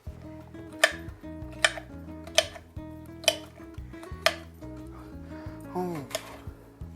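Knife chopping peppers on a cutting board, six or seven sharp, evenly spaced chops ringing close and loud, with a few clattering knocks near the end and no talking.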